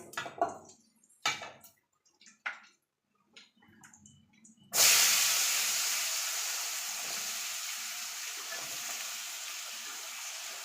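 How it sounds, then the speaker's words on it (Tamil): Chopped small shallots drop into hot oil with dried salted fish, bursting into a loud, sustained sizzle that hisses steadily after a few quieter preparatory clinks and rustles. "இந்த கருவாடோட நான் சின்ன வெங்காயம் சேர்த்துக்கிறேங்க."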